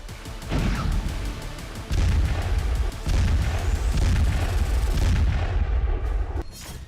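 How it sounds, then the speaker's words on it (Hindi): Heavy artillery fire booms repeatedly in a dense, loud barrage in the Russia-Ukraine war, with rumbling blasts overlapping one another and no pause between them. "तोपें युद्ध क्षेत्र में आग उगल रही हैं"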